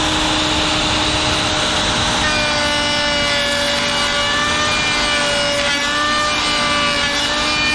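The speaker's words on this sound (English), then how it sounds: "Some routering." Router cutting wood on a roofing job where rafters are being cut, a steady high whining machine tone with gritty rasping texture, close and continuous for the whole stretch.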